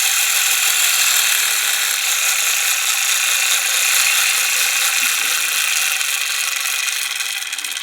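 A Royal Scot model locomotive has its clockwork spring wound by key, producing a steady, loud, continuous ratcheting buzz of the pawl clicking rapidly for several seconds, close up with no talk.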